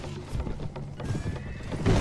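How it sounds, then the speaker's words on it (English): Horses in the Mount & Blade Warband game whinny and clatter as they crash into each other, repeated neighs over thumping hoofbeats and impacts in a busy, continuous battle din. "Just 5 horses slapping into each other."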